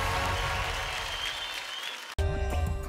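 Studio audience applause on Indian Idol following a singer's performance, a full steady wash of clapping that briefly cuts out and then resumes alongside music.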